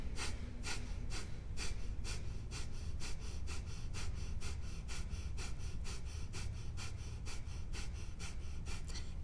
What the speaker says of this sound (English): take a deep breath in and begin your fire breath